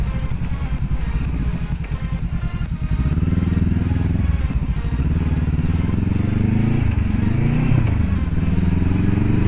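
A Honda CBR500R motorcycle engine drones loudly up close, its pitch climbing and falling through several revs as it rides, with wind rush and steady mechanical clatter underneath.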